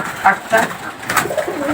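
Pigeons coo in soft, throaty bursts, a few calls overlapping closely with faint rustling between them.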